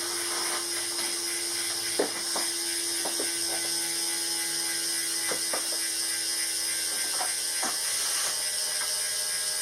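A Wahoo KICKR2 bike trainer's flywheel spins with a steady high whine and hiss, broken by faint intermittent mechanical ticks throughout.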